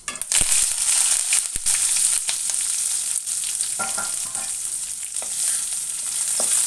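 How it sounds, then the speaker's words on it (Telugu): Mustard seeds and other tempering spices with onions, green chillies and curry leaves frying in hot oil for an eggplant, chana dal and tomato curry, giving a loud steady sizzle with crackles and stirring scrapes, no talking. "పోపులు వేగాక ఉల్లిపాయలు, పచ్చిమిర్చి, కరివేపాకు వేద్దాము."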